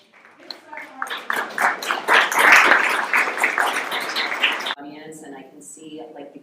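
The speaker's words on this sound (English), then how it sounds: "can we get a round of applause for these people for sharing their stories with us" An audience applauds panelists at a talk on the transgender experience and supporting trans youth, with dense clapping swelling and then stopping abruptly before a voice speaks.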